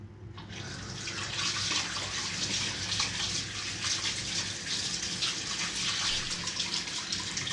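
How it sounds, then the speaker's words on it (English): Water gushes steadily from a tap as hands are rinsed beneath it, a close, even rushing that starts after a brief quiet moment and runs on without talk. "Rinse my hands."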